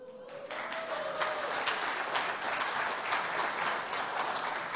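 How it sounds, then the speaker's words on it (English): A room full of people breaks into sustained applause at a talk, many hands clapping in a dense, even roar that rises quickly and holds steady, with a brief tone at the start. "I know why y'all clapping"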